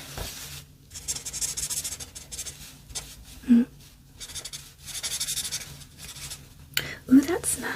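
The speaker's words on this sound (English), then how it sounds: "I will just write down" A pen scratches across paper in several soft bursts of writing, close and intimate, separated by quiet pauses and brief soft-spoken murmurs.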